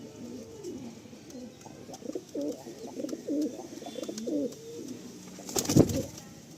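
Malwai pigeons coo in a steady, repeated low burble at moderate loudness, one bird's call swelling into a sharper burst near the end.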